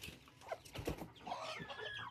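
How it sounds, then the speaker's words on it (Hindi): A hen clucks repeatedly in short, soft bursts, close by and fairly quiet, with a little background rustling. "अब हमारी मुर्गी भी नीचे आ गई और चूज़े भी"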